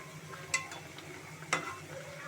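Fish frying in a pan on a home stove, a soft steady sizzle with two brief sharp crackles or stirring clinks, fairly quiet and close, no talk.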